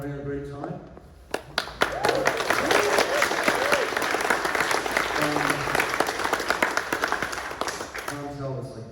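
A Comic Con panel audience at New York Comic Con 2021 breaks into sustained applause, a dense wash of clapping that swells after a few scattered claps and holds steady before fading, with a voice talking faintly beneath.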